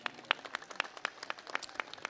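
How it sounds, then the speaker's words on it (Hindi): An audience at a religious cultural gathering applauds with a thin, faint patter of separate hand claps at an irregular quick rhythm, heard from a distance. "आपने तो एक बार यहाँ की व्यवस्थाओं के लिए जोरदार ताली बजाओ"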